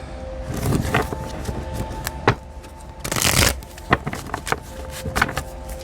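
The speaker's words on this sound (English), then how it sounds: "that wasn't a good shuffle, was it?" Tarot cards shuffled close by: a few soft riffles and taps, then a louder, denser flutter of cards midway, followed by lighter handling clicks.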